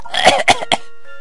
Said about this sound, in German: Ach, immer dieses Husten.